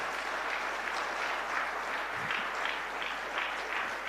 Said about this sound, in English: A nice big round of applause one last time.